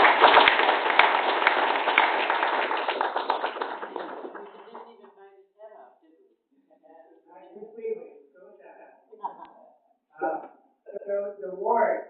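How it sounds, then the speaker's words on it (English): Brief round of applause for candidates at a local candidates' night meeting, a room full of close, dense clapping for about four seconds that thins into scattered claps, shuffling and murmuring. "just a brief round of applause"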